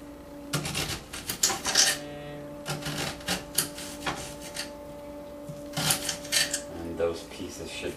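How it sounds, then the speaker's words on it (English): A knife chops an onion on a board while rice and beans are being cooked, with irregular bursts of close sharp cutting and knocking against a low steady background hum. "So now I'm going to chop the onion up."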